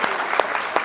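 Brief burst of audience applause for seniors seated in the front row at an alumni talk, dense clapping close and loud with a few sharper claps standing out.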